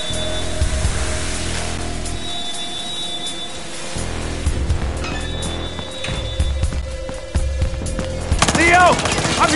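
Gunfire in the video game Battlefield Hardline, rapid automatic bursts and scattered shots crackling loudly through a busy combat mix, with voices briefly heard amid the shooting.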